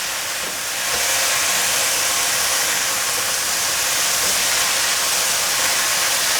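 Taro with puffed rice pan-frying, a loud steady sizzling hiss that swells after a moment and holds without break.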